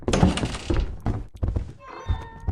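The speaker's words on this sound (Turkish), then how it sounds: "Oğlum yemin ediyorum garip grup yürüme sesleri geliyor ha." Heavy, irregular thuds and clunks sound in Lethal Company like strange footsteps, some sharp and close, with a brief tonal chime in the latter part.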